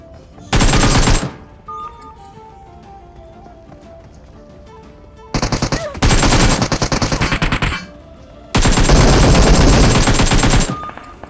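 Automatic AKM fire in PUBG, heard as three loud sustained bursts: a short one near the start, then two longer rattling volleys later, with quieter game ambience in between.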